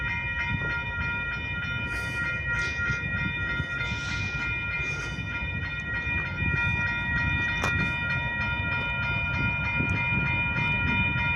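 A Union Pacific freight train rumbles past close by in Houston, a heavy continuous roar of rolling cars with sustained horn tones ringing over the top.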